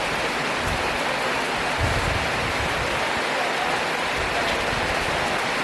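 Steady rain falls beside a new hillside road near Kamakhya Temple in Guwahati, a dense, even hiss that continues unbroken and fairly loud throughout, with no talk.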